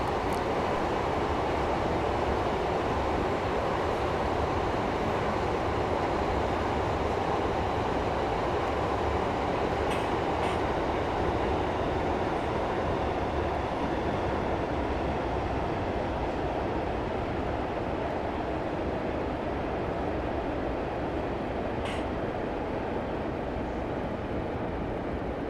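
Train coasting with power off in Train Simulator 2015 on the Warrington to Liverpool route, a continuous broad rumble of wheels on rails with faint rhythmic clicks, steady and close, no voices.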